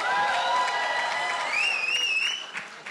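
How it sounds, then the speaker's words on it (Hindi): An audience at a film's success press meet breaks into steady applause and claps loudly for about three seconds while high tones ring over it. "एक बार जोरदार ताली होनी चाहिए।"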